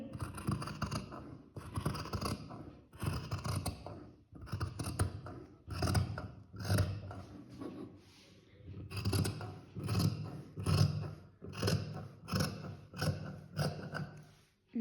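Scissors cut cloth along the curved armhole of a 22-inch bust garment piece, giving close, crisp snips in short rhythmic bursts separated by brief pauses.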